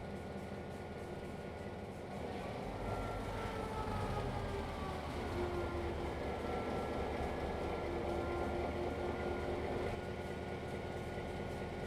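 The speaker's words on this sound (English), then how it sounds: "We know that we do need to pull the train back through here." A coal train is pulled back along the track in the Trainz railroad simulator, giving a steady low rumble of rolling wagons with a faint whining tone that swells after a couple of seconds and holds.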